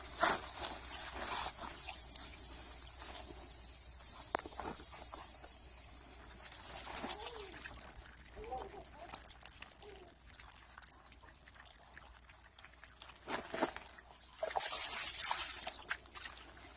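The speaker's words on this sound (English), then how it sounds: "That way I can start seeing clean water roll out" Water trickles and splashes steadily as it overflows from a rock tumbler barrel, with occasional gurgles and a bright spray near the end, close and fairly quiet.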